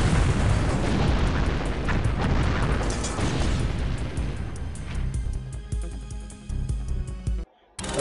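A bomb explodes in the PC video game Expendable, a loud, roaring boom that fills the scene and slowly thins over several seconds before cutting off abruptly.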